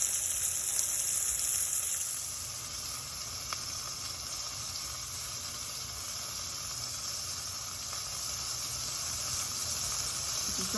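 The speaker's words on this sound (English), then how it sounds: "While this is searing" Meat searing in a hot pan while making chile verde, a steady broad sizzling hiss that runs continuously and close throughout, fairly even in loudness with no voices over it.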